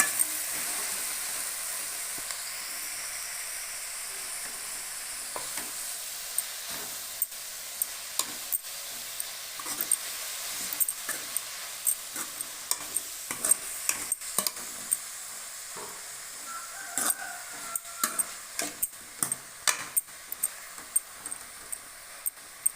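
Manathakkali (black nightshade) greens fry in a pan under a low, steady sizzle, with frequent sharp clicks and scrapes of a spoon stirring that grow busier toward the end; no talking.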